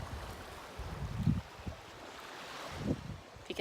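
Steady wind buffeting the microphone with a low rumble of surf behind it, continuous and fairly loud, no voices.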